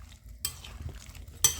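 Chermoula and onion being stirred together, two brief scraping strokes of a utensil through the mixture, quiet and close, with no voices.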